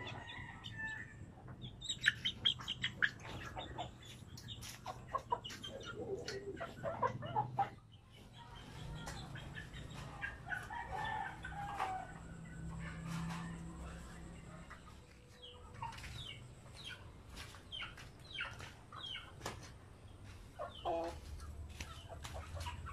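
A flock of chickens in a coop cluck and chirp steadily over a low background hum, with a brief lull partway through before the flock carries on.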